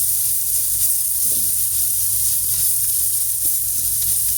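Coriander powder and other spices cook in a pan over a low flame for an aloo gobi dish, producing a steady, loud, continuous sizzle and hiss close by with faint stirring ticks.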